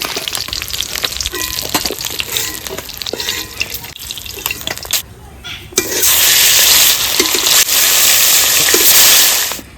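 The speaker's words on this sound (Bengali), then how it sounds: "তো মাছগুলো ভাজা হয়ে গেছে তুলে নেবো এবার বাকি মাছগুলো ভেজে নেবো" Fish frying in oil, with bursts of crackling and clattering handling at first, then after a short lull a loud, steady sizzle fills the rest.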